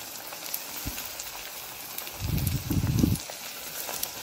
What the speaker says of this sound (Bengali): পোয়া পিঠা ভেজে নিতে হবে